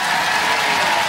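A television studio audience applauds the fighting robot Dominator 2 on Robot Wars, a loud, dense, continuous wash of clapping with no pauses.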